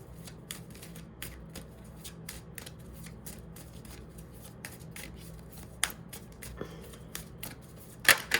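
A deck of oracle angel cards is shuffled by hand in a quiet room, giving soft rapid riffling and flicking clicks with a few sharper taps near the end. The sound is faint and close, with no talk.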